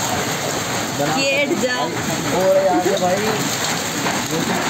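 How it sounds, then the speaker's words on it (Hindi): Steady hard pattering of hail with a little rain hitting surfaces during a windstorm, a constant loud wash, with voices speaking Hindi over it. "तकरीबन सूखे ओले ओले हैं बारिश बहुत कम है"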